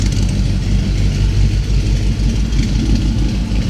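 A 1955 Napco clone truck engine idling steadily through new custom dual exhaust mufflers, a loud continuous low rumble with faint pulsing, close by and alone.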